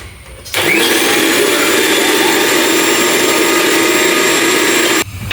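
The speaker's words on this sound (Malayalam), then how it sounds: "അടച്ചിട്ട് നമുക്കിത് ഇതിനകത്ത് മിക്സി വെച്ചിട്ട് അരയ്ക്കാം." A mixer grinder grinds soaked lentils, its loud, steady high-pitched whirr starting abruptly, holding evenly for about four and a half seconds, then cutting off.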